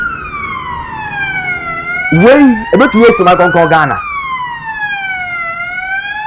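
A loud ambulance siren in Ghana wails in long sweeping tones, while someone talks over the middle stretch before the siren carries on alone.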